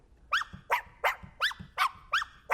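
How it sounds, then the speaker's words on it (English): A small dog's bark sample triggered in a drum mix repeats in a steady, evenly spaced rhythm, seven sharp yips in quick succession, clear and close. "in the mix, you notice there was a dog, that little cute little dog"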